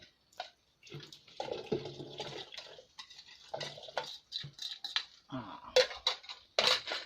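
Water is poured into a container while a simple photosynthetic bacteria culture is being mixed. The pouring is heard as intermittent splashing and trickling with light clinks, close and fairly quiet.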